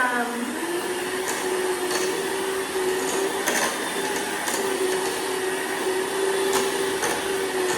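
A loud, continuous handheld electric mixer drone with a rising motor whine, punctuated by occasional clunks as the beaters shred cooked chicken.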